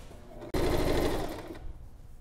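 A sewing machine runs a straight stitch along a skirt hem, a steady dense whirring burst lasting about a second before stopping, close and loud with no talking.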